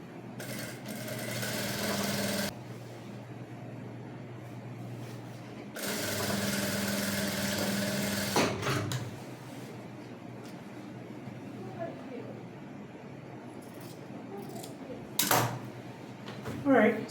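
A sewing machine stitches the collar onto a bubu maxi dress in two steady runs of close mechanical whirring with a pause between them, then quieter handling clicks and rustle.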